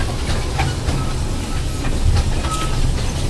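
A steady rumble and rattle of a toy train ride at an amusement park, with a faint hiss and occasional squeaks, heard from on board.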